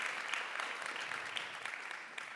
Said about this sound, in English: Please, he does deserve a round of applause.